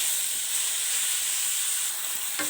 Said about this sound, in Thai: เราก็ผัดไปเรื่อยๆนะคะ ให้ไก่ของเรา สุกดีนะคะ